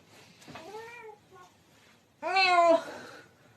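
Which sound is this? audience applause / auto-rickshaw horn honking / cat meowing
cat meowing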